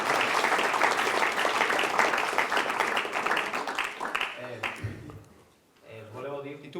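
An audience applauds loudly and continuously for several seconds at an Italian talk, then the clapping thins out and fades. A voice begins speaking over the last of it.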